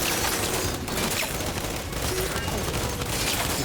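Dense, continuous gunfire in Gears 5 on Xbox One X in an icy level, with rapid bursts of shots filling the scene and a voice talking faintly underneath.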